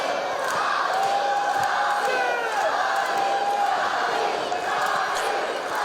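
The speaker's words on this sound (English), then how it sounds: "Crowd here in Mansfield trying to will Robby Collins up to his feet" A crowd at a heavyweight wrestling show in Mansfield cheers and yells continuously, a dense roar of shouts and whoops with a commentator talking over it.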